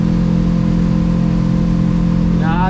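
A 2021 Duckworth Offshore 28/30 boat with twin Yamaha F200 outboards cruises at about 32 mph on one motor. The engine gives a steady, loud, close drone with a tonal hum throughout.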